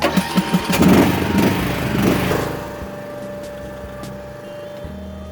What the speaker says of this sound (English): First time I've used the lawnmower